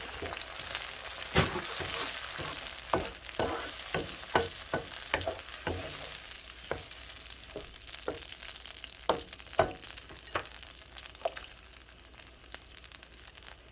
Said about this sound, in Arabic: هنا البصلة خلاص حمرت، ننزل عليها بالطماطم والصلصة